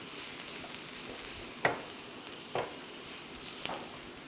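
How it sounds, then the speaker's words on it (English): Chopped vegetables and boiled minced meat stir-fry in oil, a soft continuous sizzle with a few light scrapes of a spatula, fairly quiet and without talk. "Once all that is added, you can see it's getting stir fried."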